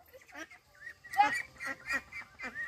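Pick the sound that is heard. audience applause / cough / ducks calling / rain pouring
ducks calling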